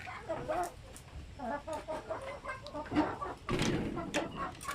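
Native chickens clucking and murmuring nearby in a continuous, busy chatter, with a louder squawk partway through.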